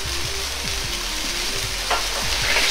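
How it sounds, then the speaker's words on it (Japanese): Sweet-and-sour sauce for sweet-and-sour pork at a steady boil as a 1:1 potato starch slurry is stirred in quickly, with continuous sizzling and bubbling plus repeated scraping strokes of a ladle, close and fairly loud. "沸騰したら1対1に溶いた水溶き片栗粉を入れ、手早くかき混ぜとろみをつけます"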